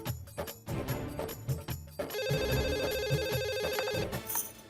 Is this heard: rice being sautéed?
no